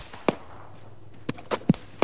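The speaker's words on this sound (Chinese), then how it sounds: "机枪我怎么只听到一发枪声？" Gunfire in the military shooter game ArmA: several sharp, isolated cracks spaced unevenly over a quiet background, one early and a cluster of reports near the end.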